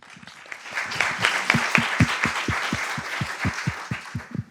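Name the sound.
audience applause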